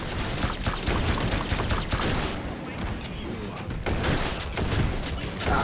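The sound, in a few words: gunfire in VR video game Hot Dogs, Horseshoes & Hand Grenades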